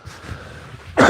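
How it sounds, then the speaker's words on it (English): A single close, rough cough bursts out at the end after a brief quiet, muffled stretch. "So sadly, I have to cough."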